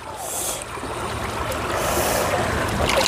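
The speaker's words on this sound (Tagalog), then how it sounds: "Malakas yung agos ng tubig." Strong river current rushing over rocks, a steady broadband wash of flowing water with bright hissing splashes, close and continuous with no pauses.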